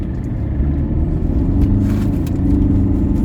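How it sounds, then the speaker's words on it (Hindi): A Mercedes-Benz E-Class with a 204-horsepower engine, shifted into drive and pulling away, gives a steady low engine rumble that builds gently as it accelerates, heard from inside the car without talking. "इसको लगाते हैं डी पे एंड जस्ट अपना एक्सीलेटर दबाते हैं"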